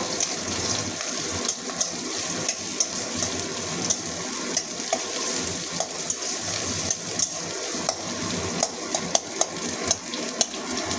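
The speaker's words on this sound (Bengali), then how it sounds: "এবারে দিয়ে দেবো পেঁয়াজ, কাঁচা লঙ্কা কুচি, এটাও ভেজে নেবো।" Sliced onion and chopped green chilli crackle in oil in a pan, a dense continuous sizzle punctuated by regular clinks of a stirring utensil, close and fairly loud, with no voices.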